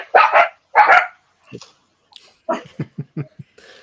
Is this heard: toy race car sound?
no